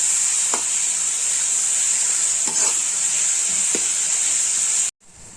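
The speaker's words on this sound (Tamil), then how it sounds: "இந்த மாதிரி வெங்காயம் நல்லா பாருங்க வதங்கிடுச்சு" Onions frying in a pan for a Madurai-style fish curry, a steady loud sizzle with a few scraping stirs of a spoon, ending abruptly near the close.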